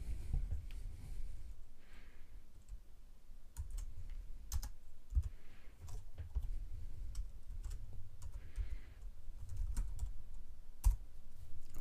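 Computer keyboard keys tapped in short irregular bursts while editing in Emacs, crisp clicks close and moderately quiet over a low steady hum, with no talking.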